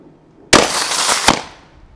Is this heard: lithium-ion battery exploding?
yes